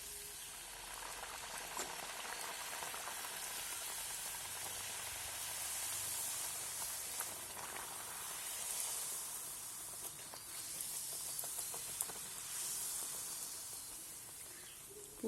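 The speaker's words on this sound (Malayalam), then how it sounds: "ഇനി ഇതിലേക്ക് ഓരോ പൂരി ഇട്ട് കൊടുത്ത് നമുക്ക് ഫ്രൈ ചെയ്തെടുക്കാം" Puri dough rounds frying in well-heated oil, a steady bubbling sizzle and hiss running throughout at moderate level with small crackling pops, no voices.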